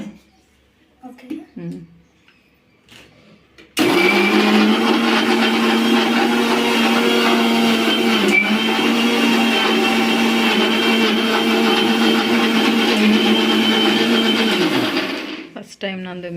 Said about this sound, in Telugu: ఫస్ట్ టైం నందు మిక్సీ పట్టడం కదా, ధైర్యంగా పట్టింది.